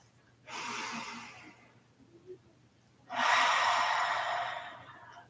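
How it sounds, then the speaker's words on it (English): Two long, breathy open-mouth exhales during a relaxing bedtime yoga session, soft and close, separated by a quiet pause with a faint inhale. "Maybe some open mouth exhales to let things go"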